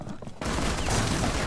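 Rapid gunfire bursts erupt suddenly after a brief quiet moment and continue densely and loudly through the rest, as in a Rainbow Six Siege firefight.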